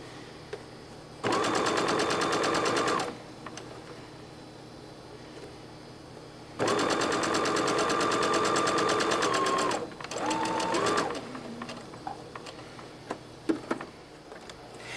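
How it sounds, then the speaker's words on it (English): A sewing machine stitches a dress sleeve on smooth fabric in two longer bursts of rapid, rhythmic mechanical whirring, then a short run, with faint handling clicks between and after. "the rest of the way now we get to sew on smooth fabric and finish our sleeve"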